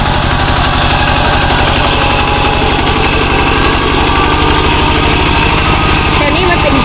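A walk-behind tractor engine runs loud and close, a steady rapid thumping idle with mechanical rattle that continues without a break.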